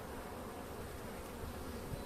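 Anatolian honeybees buzz steadily at an overwintered hive, a dense, continuous drone of many wings close by, with no voices.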